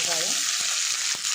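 Sliced onions with curry leaves and fennel seeds fry in hot oil for a Karaikudi-style stingray fish curry, a loud, steady sizzle with a few soft low knocks from the pan.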